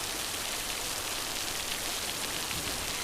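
Steady rain falls continuously as an even, close wash of hiss with no breaks, and no voices are heard.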